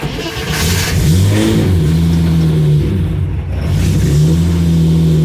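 A car engine warming up at a shop, idling with a steady mid-range hum and rising into a couple of sustained revs, close and loud with no talking.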